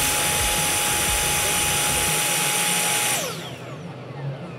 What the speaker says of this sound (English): The Topcat Thanos fog machine right there.